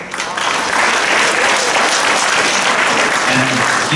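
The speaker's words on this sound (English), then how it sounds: "So once again, it will be applause to them." Loud, sustained applause from a large audience at a five-nation technical team event in Singapore, dense clapping rising quickly and holding steady for several seconds.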